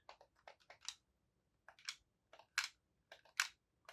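Buttons on an old game controller click in short, quiet bursts, with rapid clusters of plastic clicks separated by brief pauses.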